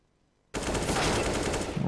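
AK rifle fire in a Counter-Strike match: after half a second of near silence, a loud, rapid burst of automatic gunshots that continues unbroken to the end, close and dominant, with no talk.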